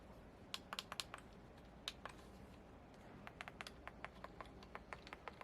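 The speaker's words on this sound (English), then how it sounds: "These buttons are clicky." Buttons on a Pandora Box retro handheld game console click in quick, crisp bursts, close and fairly faint, with short pauses between runs of presses.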